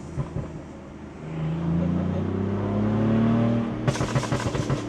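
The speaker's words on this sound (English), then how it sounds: "the engine just had to warm up a little bit" A tuned BMW F82 M4 engine revs up, its note climbing and holding loud and close, then breaking into a burst of sharp, rapid crackles at the end.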